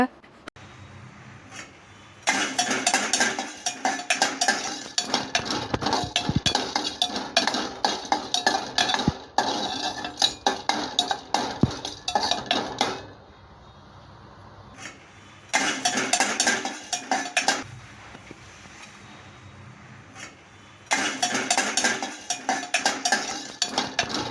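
Cumin and fennel seeds dry roast in a pan for biryani spice, with bursts of scraping, rattling stirring that stop and restart several times over a low background hum.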